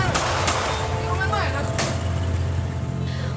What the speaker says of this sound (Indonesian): polisi melepaskan tembakan peringatan